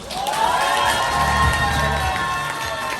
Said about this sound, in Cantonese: 我想大家以熱烈嘅掌聲邀請我嘅 partner